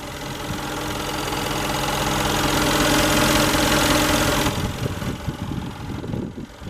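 A 2013 Mercedes-Benz G63 AMG's hand-built twin-turbo V8 idles with a deep, steady rumble that fades partway through, leaving quieter mechanical knocks and rustling.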